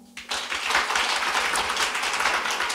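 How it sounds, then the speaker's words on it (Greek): An audience at a Greek stand-up comedy show breaks into loud, sustained applause after a brief quiet moment, a dense wash of many hands clapping at once that holds steady until the end. "Και ένα χειροκρότημα από όσοι βλέπετε stand-up comedy για πρώτη φορά."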